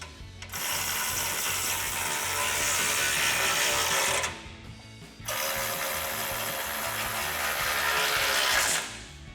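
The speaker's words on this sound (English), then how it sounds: "To tighten our bolts down, we're going to be using a 15mm socket and a ratchet." A ratchet with a 15mm socket tightens intercooler bolts on a Ford F-150, two long, loud bursts of rapid clicking separated by a short pause, close up and with no talk.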